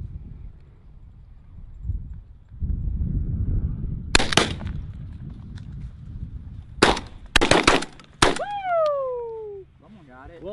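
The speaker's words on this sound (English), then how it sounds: "I literally just shot that one. I just shot another one! I shot two!" Shotgun blasts ring out during an outdoor pigeon hunt, several sharp loud reports in quick succession, some doubled, with excited voices talking and cheering in the background.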